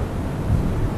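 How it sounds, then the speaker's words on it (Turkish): A brief, steady low roar of the gas crater fire at Darvaza in the Karakum Desert, driven by wind, broadband rumbling noise with no voices. "Rüzgarın da etkisiyle kraterdeki ateş kendine özgü bir ses çıkarıyor."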